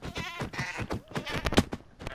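Goat in a Minecraft-style survival game giving a short synthetic bleat amid excited overlapping player voices, with the animal call faint and brief under the chatter.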